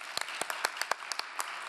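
Scattered claps from a small group at a conference closing session, irregular and thin, a brief smattering of applause heard at moderate distance.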